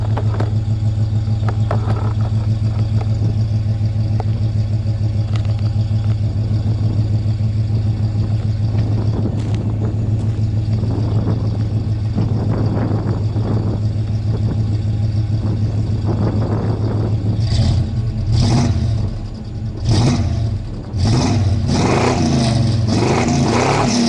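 A Ford F-250 with a 460 engine and a performance exhaust runs a little way off, its low steady rumble holding throughout, then revving in several sharp bursts near the end. No one speaks.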